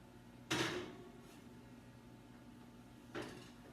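A kitchen oven door shut after a hot fudge sundae cake is slid in, one solid thud with a short rattling decay, then a softer second knock a few seconds later, close by over a faint room hum.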